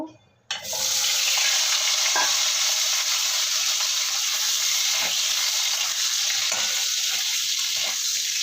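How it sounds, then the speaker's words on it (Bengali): Potatoes frying in a pan of hot oil make a loud, continuous sizzle after a sudden start, with a few soft scrapes and stirs breaking through close by. "আলুগুলো ভাজা হয়ে গেছে এবার আমি তুলে নেব"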